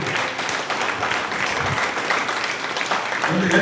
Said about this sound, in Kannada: ಒಂದು ಎತ್ತಿನ ಚಪ್ಪಾಳೆ